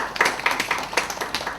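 A small academic conference audience claps to welcome a presenter, a thin sparse scattering of individual hand claps in an uneven rhythm, fairly close and moderate in level.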